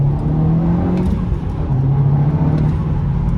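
Audi S3 8P turbocharged hatchback accelerating in second gear on a 60 mph road, a steady close engine drone rising slightly in pitch from inside the car, with no talk.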